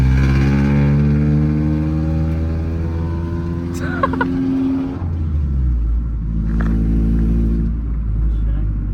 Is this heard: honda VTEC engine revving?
yes